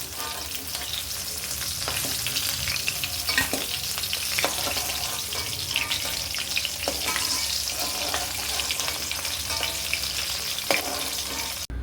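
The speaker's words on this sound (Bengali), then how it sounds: "আমার মাছটা সুন্দরভাবে ভাজা হয়ে গেছে এবার আমি এক এক করে" Hilsa fish frying in hot oil in a pan, a loud, steady sizzle that runs unbroken throughout, with occasional sharper crackles and pops and no voices.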